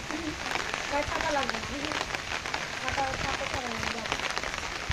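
Steady rain falls in a dense hiss under people talking nearby.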